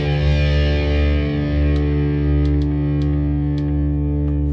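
An electric guitar with a crunchy distortion effect rings out in a loud, sustained, buzzing chord held steadily throughout, with a few faint pick clicks on top.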